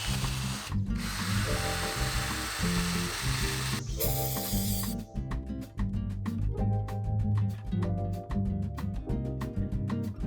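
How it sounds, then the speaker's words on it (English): A power drill whines steadily while a wire wheel grinds rust off a motorcycle shift lever, turning into a rapid, rattling chatter in the second half; close and loud throughout. "The rusty shift lever got cleaned up with the drill and wire wheel."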